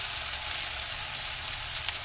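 Onions fry in hot mustard oil as a tempering for a cauliflower-stalk sabzi, giving a loud, even, unbroken sizzle heard up close, with faint pops now and then.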